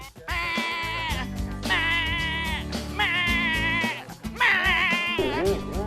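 Lambs bottle-fed milk at an agricultural tourism farm at Kasetsart University Kamphaeng Saen, Nakhon Pathom, bleat four times in long, wavering cries, close and loud, with someone talking between them.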